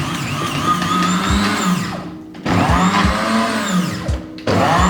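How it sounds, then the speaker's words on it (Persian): A kitchen blender whirs loudly up close as it chops basil into pesto, running in bursts with brief pauses and its motor pitch rising and dropping as the load shifts. "ریحونا رو هم یه ریزه چاپ میکنم و به بلندرم اضافه میکنم."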